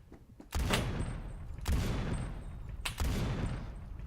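Semi-automatic M107 rifle firing in the video game Phantom Forces: three loud, booming single shots about a second apart, each with a sharp crack and a long rumbling tail, with no talking.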